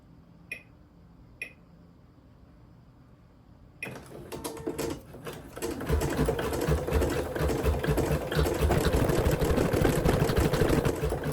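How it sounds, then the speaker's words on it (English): An embroidery machine stitches on elastic material; after a few faint clicks and a pause, a loud, steady mechanical rattle of fast needle strokes starts up close and keeps running while the needle breaks. "That's my needle breaking!"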